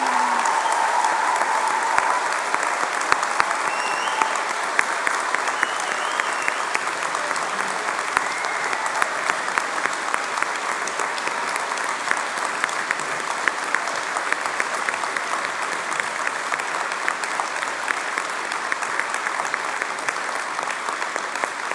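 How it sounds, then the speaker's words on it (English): A large standing audience of graduates and guests applauds at the close of a London university degree ceremony, a long, even roar of clapping in a big hall, sustained and fairly loud for over twenty seconds without a break. "let's give you one last huge round of applause"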